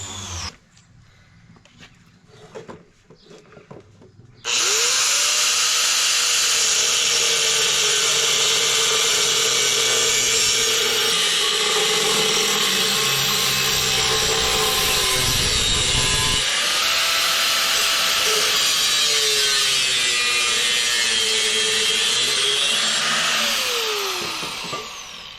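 A power saw cuts through a vehicle's exhaust pipe: after a few quiet seconds the blade starts up loud and close, grinding steadily with a shift in pitch partway through before winding down at the end.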